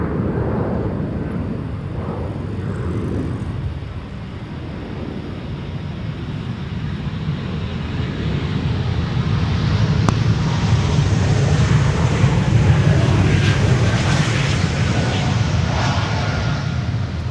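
An Embraer E195-E2 jet with geared turbofan engines takes off from Amsterdam Schiphol's Polderbaan runway 36L. A steady, fairly soft engine roar swells louder midway and holds as the aircraft passes, with some wind noise mixed in.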